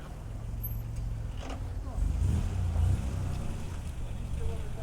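A classic Ford Granada engine rumbles past nearby at a car show, its low drone swelling to a peak midway and then easing off over steady outdoor background noise.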